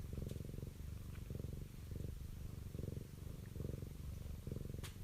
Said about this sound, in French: Le chat ronronne